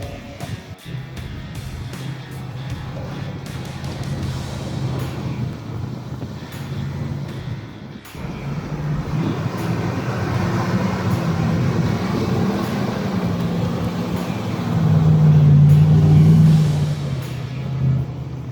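Vehicles drive across grass in the bush, with a continuous low engine rumble that swells and grows louder toward the end as a vehicle passes close by.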